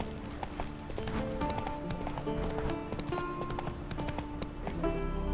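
Hoofbeats of the horse Roach galloping in The Witcher 3 video game, a steady clip-clop rhythm running throughout under a dense layer of game music.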